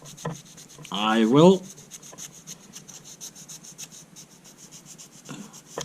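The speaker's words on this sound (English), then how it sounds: "grind it with some fine sandpaper" Fine sandpaper scrubbing against a damaged thumbnail: quick, close rasping strokes repeating through the clip, with a brief spoken phrase near the start.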